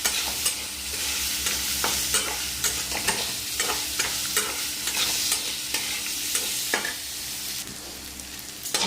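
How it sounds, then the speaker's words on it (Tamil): Chopped onion and coconut sautéing in a pan for curry leaf thuvaiyal, a steady loud sizzle broken by repeated scrapes and clinks of a spoon stirring, with no talking. "வெங்காயத்தை போட்டு கொஞ்சோண்டு தேங்காய் கொஞ்சம் எடுத்து வச்சுருக்கேன். அதுதான் அதையும் போட்டு நல்லா வதக்கணும்."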